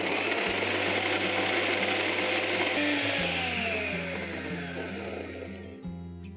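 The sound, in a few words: mixer grinder grinding avocado corn dip with mayonnaise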